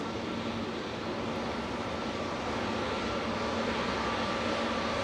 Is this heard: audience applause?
no